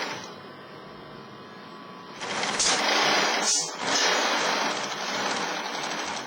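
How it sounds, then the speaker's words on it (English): A sewing machine stitches elastic onto fabric, first with a quieter mechanical hum, then a loud, close whirring run that dips briefly midway and carries on to the end. "Just let this sew out."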